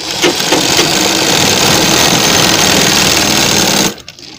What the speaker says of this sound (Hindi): और इसको हम यहाँ पर अपने लगा देंगे सिलाई पूरी सीधी